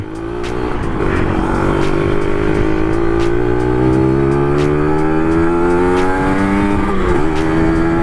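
A Kawasaki 150 motorcycle engine on a test ride revs hard and climbs through the gears, its loud buzzing drone rising in pitch with brief drops at shifts, close and continuous.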